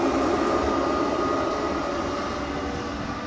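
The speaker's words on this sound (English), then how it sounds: "that train had Eastern Daily Press on it" A train passes through Stowmarket station with a loud, steady, broad rushing roar that eases off slightly toward the end, with no voices.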